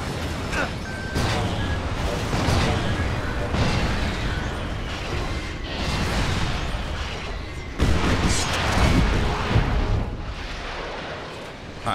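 Rockets fire and explode in a Resistance 3 firefight, a chaotic run of heavy booms and blasts layered thickly together, loud and near, with a voice talking underneath.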